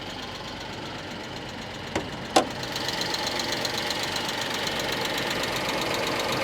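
An idling Dodge Magnum engine ticks with a steady, fast metallic tapping, close up, after two brief sharp clicks early on.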